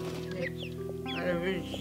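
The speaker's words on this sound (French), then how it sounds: "Les coqs, regardez comment ils sont les coqs." Roosters cluck repeatedly at close range in a zoo enclosure, a steady run of short clucks with people talking over them.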